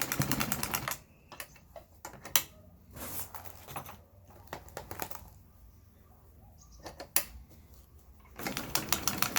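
A class 38-A bag-closing sewing machine with a 638 head stitches big bulk bags in bursts of fast, rattling needle clatter, separated by quieter pauses with faint mechanical ticks.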